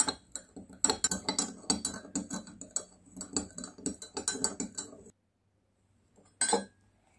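A metal spoon stirs salt into water in a cup, making a rapid run of close, bright clinks against the sides that stops abruptly, followed by a brief quiet and one last short clatter.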